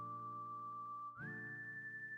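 Melodic whistling carries the tune in the Wild Arms game soundtrack, a steady held note that slides up to a higher pitch over soft musical backing, alone and quiet.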